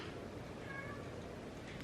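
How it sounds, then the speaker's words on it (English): A pet cat meows indoors, a drawn-out moderately loud cry lasting about a second, followed by a brief higher squeak at the end, with faint room noise behind. "My cat is meowing for some reason."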